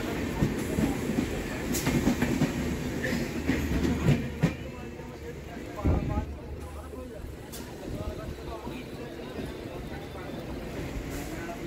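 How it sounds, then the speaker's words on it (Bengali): Malda Town–Sealdah Gour Express pulls into Bandel Junction, a rumbling, rattling train with clickety-clack wheel beats and metallic clanks, heard close with someone talking over the noise. "মালদা টাউন শিয়ালদহ গৌড় এক্সপ্রেস ঢুকছে ব্যান্ডেল জংশনে"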